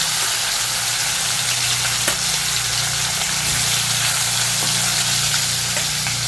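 Fish frying in very hot oil, a dense, steady sizzle and crackle holding at close range for the whole stretch, with a few faint clicks and no talking.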